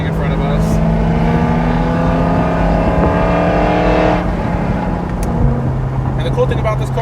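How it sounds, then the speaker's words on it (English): A loud Ford Mustang just ahead drones with a steady engine note heard from inside a following 2022 Corvette Z51, the tone shifting as it changes gear, close and continuous with no speech. "But a really loud Mustang in front of us."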